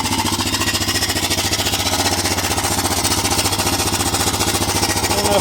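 An abandoned 2008 Honda Recon ATV engine runs rough on choke after sitting for years, a close, loud, rapid pulsing chug that hammers out steadily without a break.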